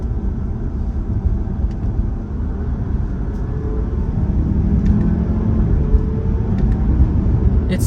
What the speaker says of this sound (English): I'm gonna put it in sport here, and I'm just going to kind of row through the gears